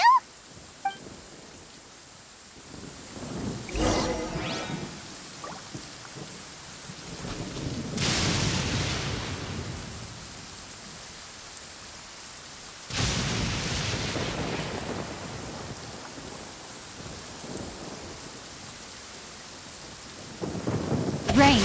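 In the video game Genshin Impact, rain hisses steadily while several deep rolls of thunder rumble through, each swelling and fading over a few seconds.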